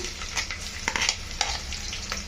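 Onions tossed into hot oil in a pan crackle and sizzle up close, with a few stirring scrapes breaking through the steady frying hiss and no one speaking.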